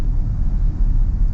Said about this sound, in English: We'll get a little acceleration here.